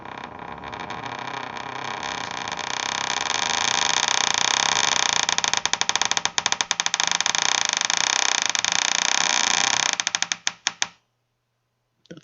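A door creaks open as a spooky sound effect with a long, loud, strained groan that swells and holds, then breaks into rapid stuttering creaks before stopping dead.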